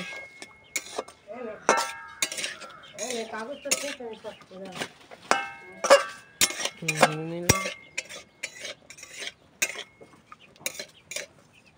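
Fried potatoes stirred in a pan with a metal utensil, irregular scraping clinks and knocks against the pan heard close up, interrupted by a voice talking and a cough.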